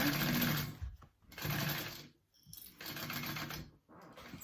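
Close up, a sewing machine bastes a pleat at the bottom of a handbag, running in three short bursts of rapid, rattling stitching separated by brief pauses.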